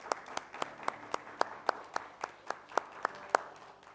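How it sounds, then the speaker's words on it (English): A church congregation claps in time, with about fifteen sharp, evenly spaced claps, fairly faint, over a soft bed of scattered hand noise. "Would you give God a round of applause for that?"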